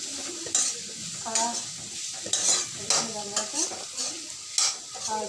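A spoon stirs and mixes a frying mixture in a pan for a Kerala-style kappa and fish curry, giving repeated scraping strokes over a soft, steady sizzle, close by with no talking.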